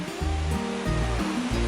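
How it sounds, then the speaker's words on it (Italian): A mountain river near Lago del Mis and the Cadini del Brenton rushes over rocks in a loud, continuous roar of water, with low tonal sounds running beneath the steady flow. "Eccoci finalmente al fiume"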